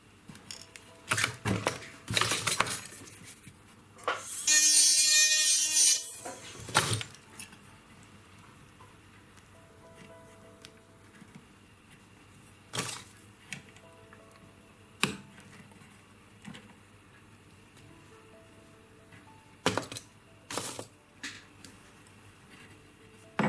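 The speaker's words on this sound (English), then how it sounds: "So I'm going to use the side of my pliers. It can be any pliers, just to push the claws up" Pliers push up the metal claws of a four-claw stud earring setting to lock in the stone, producing sparse small clicks and ticks spaced across a quiet background, with one brief louder scraping burst near the start.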